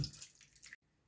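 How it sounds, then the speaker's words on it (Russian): Cold water pours into a pot holding a washed pork knuckle, a steady splashing rush that runs for under a second and then cuts off abruptly into near silence. "Заливаем холодной водой"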